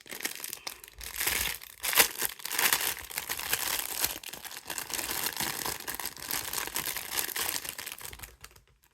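A foil bag from a plush pendant package is handled and crinkles continuously, with crisp rustling close up, louder bursts of crackling and a fade to quiet at the end.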